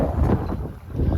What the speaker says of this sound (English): the wind is not really allowing much speed right now